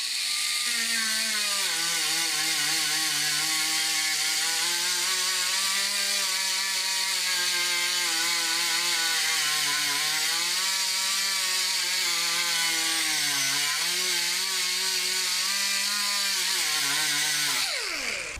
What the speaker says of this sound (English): There's the sanding.